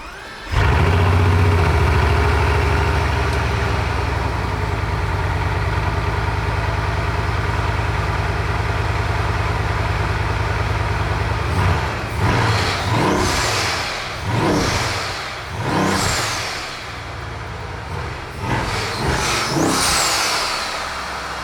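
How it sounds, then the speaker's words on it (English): A Bugatti with engine modifications fires up with a loud start and settles into a steady idle, then over its last half gives several short rising revs that dip back toward idle. "All right, so now I'm gonna turn the car on."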